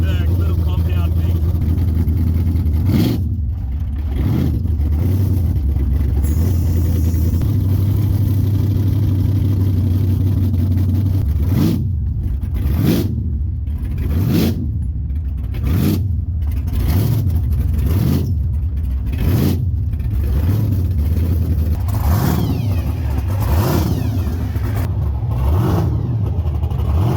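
Several cars with revving engines drive up to park inside a small compound at a Connecticut burnout event, engine sound steady throughout with repeated louder throttle blips in the second half, voices talking over it.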